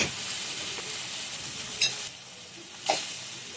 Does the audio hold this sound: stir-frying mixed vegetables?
yes